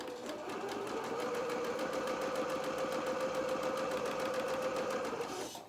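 Sewing machine running a zigzag stitch on beginner trousers, one continuous even whirring hum with a fast regular pulse, nearby and moderately quiet, stopping at the end.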